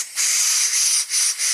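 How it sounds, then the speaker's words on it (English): Air blown through a brake hose on a 1967 Triumph GT6 makes a close, loud hiss in short puffs, a long steady blow followed by two brief bursts. "Now if I blow through the hose"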